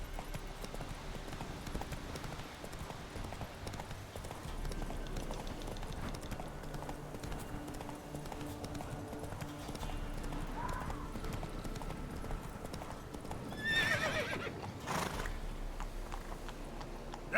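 Horse galloping in The Witcher 3, with steady rhythmic hoofbeats running throughout at a fairly low level and a brief brighter cry near the end that could be a neigh.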